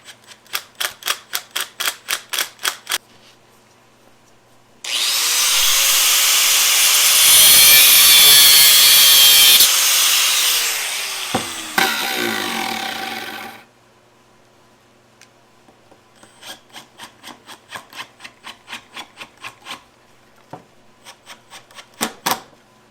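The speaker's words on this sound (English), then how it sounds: "in the end I need to cut the end off the screw" A power tool grinds off the protruding end of a screw on a sauna door latch, a loud harsh burst of several seconds set between bouts of rapid tapping and clicking before and after.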